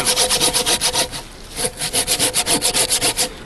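Hand saw cutting through a hardwood log about 4.5 inches thick, loud close rhythmic back-and-forth strokes with a brief pause mid-way before the strokes resume.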